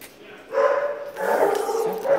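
A dog gives drawn-out whiny vocalizations, two sustained cries close by, with a quieter one at the end.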